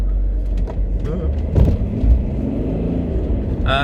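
A BMW 530d E60 engine rumbles while driven hard through lanes, a low steady drone from inside with short surges and bumps, and a voice speaks briefly over it.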